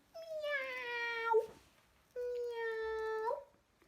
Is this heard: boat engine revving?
no